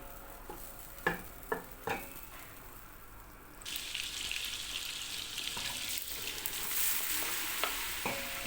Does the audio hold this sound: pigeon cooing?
no